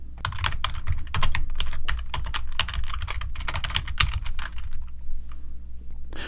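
Code being typed on a computer keyboard during a programming lesson: a steady, busy run of close, crisp key clicks with brief pauses, loud and alone without any talk.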